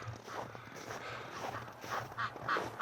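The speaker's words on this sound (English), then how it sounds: "The ducks are quacking through the opening in the barn, and it was echoing behind me here" Ducks quack in short bursts outdoors on a windy winter morning as they are let out of a barn, the calls coming through the barn opening and echoing off a nearby house, growing louder toward the end over steady low rumble.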